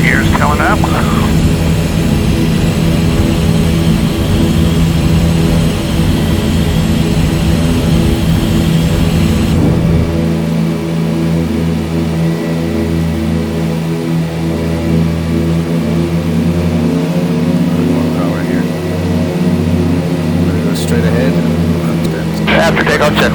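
Piston engines of a DC-3 in a flight simulator roar steadily at takeoff power, a loud continuous drone with a shift in tone partway through, while people talk over it.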